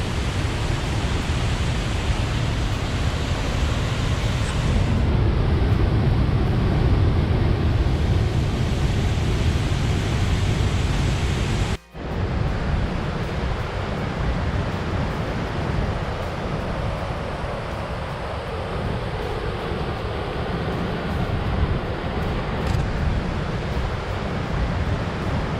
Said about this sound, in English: This creek just goes down through the valley, and this is the rain we got last night.